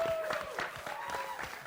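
An audience at a virtual reality summit claps in a brief, uneven burst of applause, moderately close, with a faint voice or tone running underneath.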